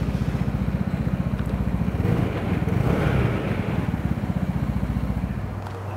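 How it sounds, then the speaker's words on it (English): Vespa GTS scooter engine running through an Akrapovic exhaust, a steady, close putter of rapid even pulses that swells briefly in the middle before settling back, with no voices. "It's just a little bit louder than a stock pipe, but does have a very nice exhaust tone."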